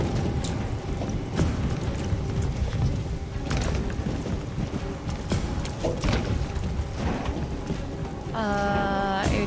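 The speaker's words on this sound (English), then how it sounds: "I guess it's raining." Steady broadband hiss of rain falling in a video game (Detroit: Become Human), with occasional thumps and soft clatter, continuous throughout, ending with a brief electronic tone sequence.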